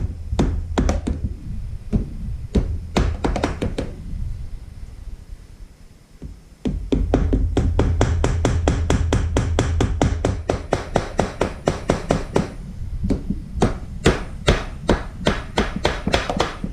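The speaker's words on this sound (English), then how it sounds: "So here's that hammer I was talking about." A hammer strikes repeatedly, close and loud, in quick rhythmic bursts of sharp knocks with a brief pause partway through, during rocker cover removal on a Honda CBR250R MC19 motorcycle.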